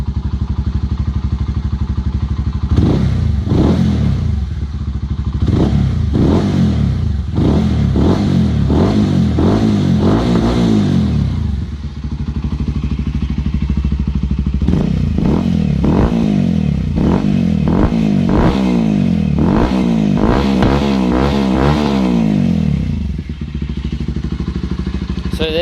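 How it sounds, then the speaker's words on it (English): A 2009 Honda CBR125R with an IXIL slip-on exhaust revs hard and loud up close, in repeated rising and falling blips with a rough idle between bursts and a brief lull midway. "there she is. Very loud."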